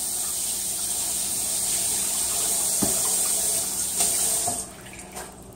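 Water running steadily from a kitchen tap to soak a rack of lamb, a close, even gush with a few clinks near the end as the flow stops.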